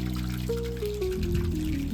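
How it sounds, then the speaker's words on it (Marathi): Water overflowing from a rooftop water tank and trickling down: a steady, continuous pour with an unbroken splashing wash, plus a faint tonal hum in the background and no voices. "ती टंकी रोज दिवसातून 3 वेळा भरला जाते टंकी, आणि 3 वेळा एवढं पाणी ओव्हरफ्लो होतं"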